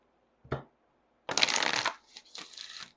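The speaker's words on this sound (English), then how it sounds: "just one more shuffle" Oracle cards are shuffled close up: a single short riffle, a pause, then a longer burst of flicking and a final quick shuffle, all fairly quiet with no talk.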